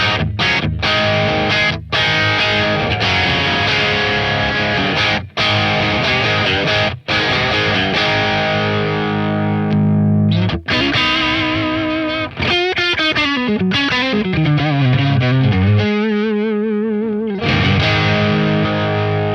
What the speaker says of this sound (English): you can hear the pure tone of the pedal